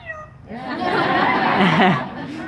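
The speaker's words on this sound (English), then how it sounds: "Can we hear your kitty cat?" A cat gives a drawn-out, wavering meow up close, with a brief human voice just before it.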